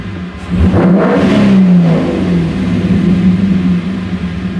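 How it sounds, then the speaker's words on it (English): A Porsche 944 with an LS engine swap revving, a loud close engine note that rises and holds, then settles back with a slightly unsteady idle. "It's even at idle, it's like it's hunting a bit, but throttle response is pretty good."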